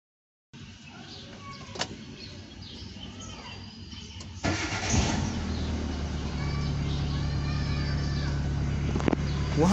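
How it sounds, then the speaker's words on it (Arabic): A car engine cranks and starts after a blown fuse is replaced, catching partway through and settling into a steady, close idle. "هنقوم بتركيب الفيوز وتشغيل السيارة"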